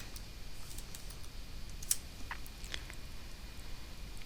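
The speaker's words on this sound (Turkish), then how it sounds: "Şifreyi yazıyorum." Someone types a password on a computer keyboard, giving faint, sparse key clicks at an irregular pace over a low background hiss.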